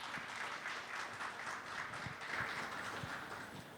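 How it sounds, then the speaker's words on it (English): An audience at a literary conversation on Bangla literature applauds the speakers, a soft, even wash of many hands clapping heard from a distance with no talk over it. "Let's have a round of applause for our speakers."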